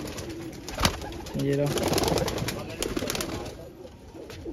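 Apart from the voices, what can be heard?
pigeons cooing in a loft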